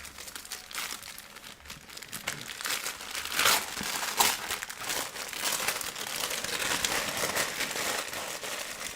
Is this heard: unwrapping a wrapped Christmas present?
yes